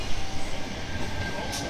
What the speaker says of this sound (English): This isn't the train I'm catching.